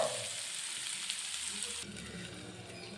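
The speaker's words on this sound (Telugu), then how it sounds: "1 కప్పు క్యారెట్ సిమ్లో పెట్టుకొని ఫ్రై చేసుకుందాం." Carrots fry on a low flame under a lid, giving a soft, steady, hissing sizzle that continues close by for a few seconds, with no talk.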